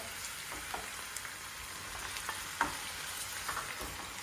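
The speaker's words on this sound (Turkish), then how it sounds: "Şimdi bu soğan, sarımsak, salça üçü birlikte kavruldu." Onion, garlic and tomato paste sauté together in a pan for a mixed vegetable stew, a steady close sizzle with occasional soft stirring clicks and no talk.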